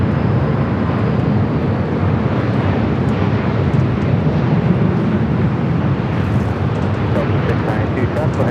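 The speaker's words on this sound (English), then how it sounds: "Singapore up here on the north side, coming in from Singapore, this A350-900" Singapore Airlines Airbus A350-900 airliner arriving at Los Angeles airport, heard as a steady, loud broadband jet roar that holds evenly throughout with some wind buffeting and no clear rise or fall.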